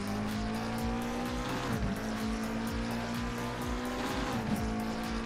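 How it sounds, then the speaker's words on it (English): A McLaren race car engine in Assetto Corsa Competizione, held at high revs and climbing through gear changes, loud and continuous with sustained harmonic whine and no talk. "is it Andrade style or does he just rev the hell out of this McLaren?"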